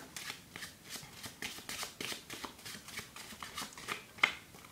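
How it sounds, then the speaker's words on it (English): Playing cards are shuffled repeatedly in a steady riffling rhythm, crisp rapid flutters close by with no voices. "then you can just shuffle it back up"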